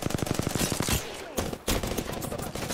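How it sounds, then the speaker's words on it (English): Rapid automatic gunfire in Apex Legends rattles in quick bursts, a steady stream of shots broken by brief pauses and single louder reports, fairly close and continuous. "he's shooting at me now"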